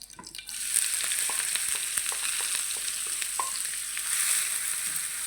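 Onion and spice masala frying for a fish roe kebab, a continuous bright sizzle with light stirring taps against the pan, close and steady, with no speech.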